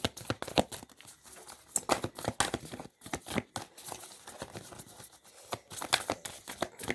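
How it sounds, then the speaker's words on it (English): A deck of tarot cards being shuffled by hand, giving a close, steady run of crisp riffling, flicking and papery rustles that comes in uneven bursts, with no talk. "let's give this a real good shuffle"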